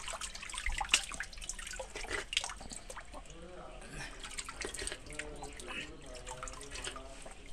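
Water trickling and dripping steadily into a temple tank at Amrakh Ji Mahadev Temple, Amberi, with someone talking over it.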